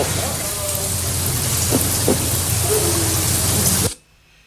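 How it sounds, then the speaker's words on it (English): Heavy rain pours in Southern California, a loud, dense, continuous hiss close by with a couple of faint voice fragments, cutting off abruptly near the end. "It's raining."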